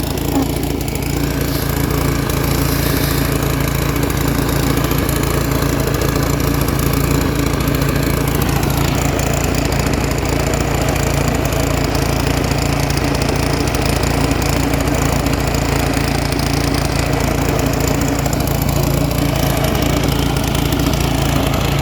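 A lawn mower engine runs steadily and loudly while cutting grass in Russia, its drone continuing without a break from start to finish, close to the microphone.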